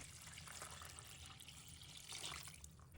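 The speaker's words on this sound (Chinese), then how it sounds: "清洗完毕后，倒入清水，" Clean water pours steadily over pickled cabbage leaves in a basin, a continuous faint splashing rush with no voices.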